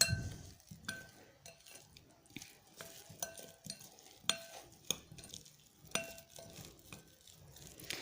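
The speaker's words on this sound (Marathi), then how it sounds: "यानंतर सोयाबीनमध्ये हे कोरडे मसाले छान मिक्स करून घ्यायचे" Dry spices being mixed into soybeans with lemon juice in a bowl, soft repeated stirring scrapes and light clinks of a spoon against the dish, close but quiet.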